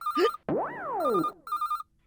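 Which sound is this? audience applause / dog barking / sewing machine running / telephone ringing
telephone ringing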